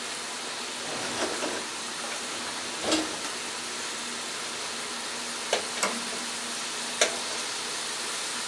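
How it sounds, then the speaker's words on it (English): A T-bone steak frying in oil in a frying pan, giving a steady, even sizzle throughout with a few brief clinks and taps from the pan. "And now I'm going to add the steak."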